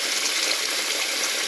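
Tap water runs steadily into a sink while raw chicken is rinsed, a constant close hiss and gush with no pauses and no talking.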